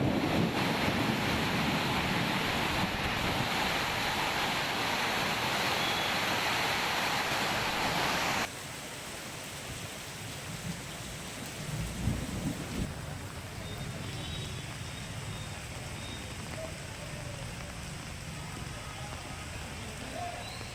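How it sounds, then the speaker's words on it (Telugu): Heavy rain pours down in Hyderabad in a dense, steady roar that stays loud and close, then drops to a softer, continuous wash after about eight seconds; no distinct thunderclap stands out. "ఉరుములు మెరుపులు పిడుగులు జోరు వాన"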